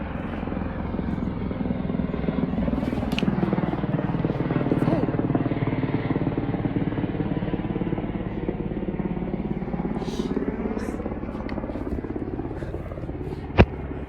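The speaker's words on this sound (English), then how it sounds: "there's a helicopter above my head." A helicopter passing directly overhead gives a loud, steady rotor thrum that holds for the whole stretch, with a brief sharp click near the end.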